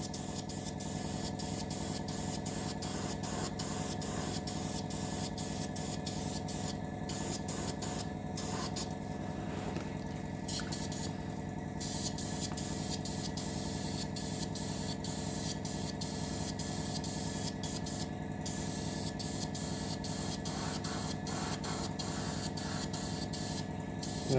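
An aerosol spray can lays a light first coat of paint on an HMS Queen Elizabeth model ship, a steady close hiss broken by brief pauses between bursts, with no talking.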